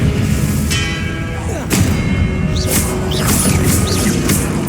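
Magic spell blasts in the Hogwarts Legacy video game, a dense loud wash of booming impacts, whooshes and crackling bursts in quick succession, layered over continuous background game noise.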